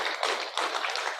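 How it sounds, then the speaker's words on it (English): Applause from the audience at a regional social policy forum, a short burst of dense clapping that holds at moderate level, slightly distant in a meeting hall. "Let's give applause for them."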